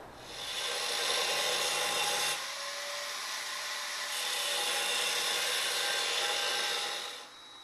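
Steady back-and-forth strokes of a hand saw cutting off an excess piece of wood, one long pass, a brief pause, then more rasping strokes, close up.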